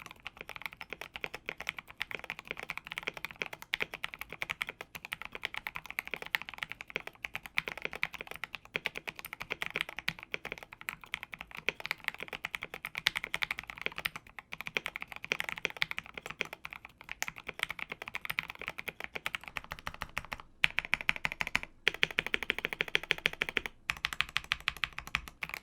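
Steady touch typing on a custom 65% mechanical keyboard fitted with white-on-black MT3 keycaps, a close, continuous run of crisp keystrokes with brief pauses and a slightly louder stretch near the end.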